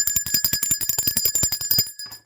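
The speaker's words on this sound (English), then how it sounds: "Let me ring the bell for that." A bell is rung rapidly over and over, about twenty bright, ringing strikes in quick, slightly uneven succession, loud and close, then a short fade.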